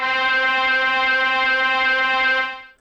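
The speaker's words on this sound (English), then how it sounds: "So it's a brass section sample" A sustained, bright brass-section chord holds steadily for over two seconds, rich in harmonics, then fades out at the end; no talking.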